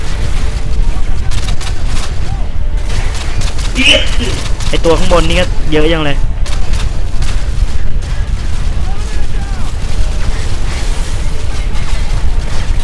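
Explosions from grenades and gunfire in the video game Call of Duty: Modern Warfare 2, loud and continuous, with someone talking excitedly over the battle.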